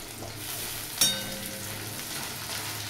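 Garlic frying in hot oil in a pan: a close, steady crackling sizzle with one sharp clink about a second in, then the frying carries on evenly with no speech.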